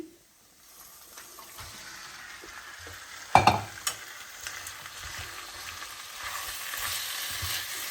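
Marinated chicken, salted and coated in turmeric, fries in a pan with a soft continuous sizzle and a sudden clatter of stirring near the middle, close up and with no voices.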